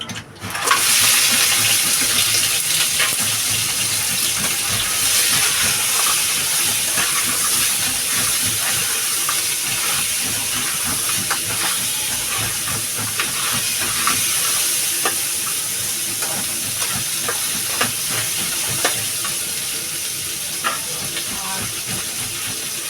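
Crab pieces frying in hot oil for a crab curry, a loud continuous sizzle and hiss with occasional stirring clatter, no one talking.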